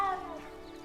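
A single short cat meow from a kitty in the video game Hogwarts Legacy, faint and alone, tapering off within a second.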